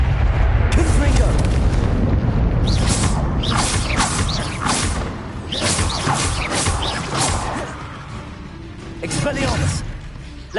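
Fiery blasting spells cast in the Hogwarts video game, a run of loud bursts and crashes over a dense, rumbling battle din, with a voice calling out over it.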